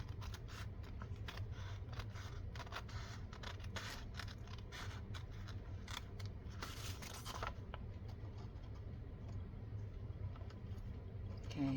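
Scissors trimming around the edge of a paper craft page, a run of soft snips and scrapes close up over a steady low background hum.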